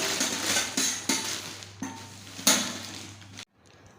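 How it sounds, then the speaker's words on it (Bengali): Puffed rice (muri) poured into a bowl in a small shared-room kitchen, a dry rustling patter in several short bursts over about three seconds, close and fairly quiet, with a low steady hum underneath that stops at the end. "তারপর আমি মুড়িটা ঢেলে দিই"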